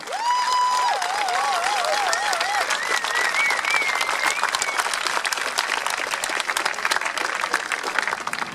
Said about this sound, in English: Please a hand of applause for him.